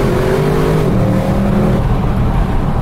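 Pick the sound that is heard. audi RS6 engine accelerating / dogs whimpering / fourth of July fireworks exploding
audi RS6 engine accelerating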